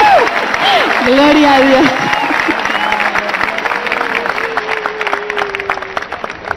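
A large crowd at an evangelical church crusade in Colombia applauds continuously while a voice calls out over the clapping and other voices shout praise.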